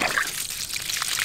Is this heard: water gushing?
yes